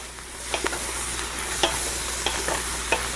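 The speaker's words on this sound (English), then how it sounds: "Okay, give it a stir." Mushrooms sautéing in a pan while being stirred, with a loud continuous sizzle and a few crisp scrapes of the spoon, close up.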